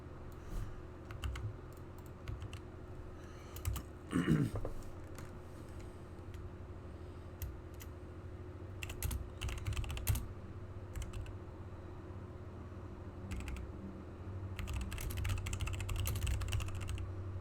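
Computer keyboard typing, heard close up as irregular bursts of clicky keystrokes with short pauses, over a constant low fan hum in a quiet room.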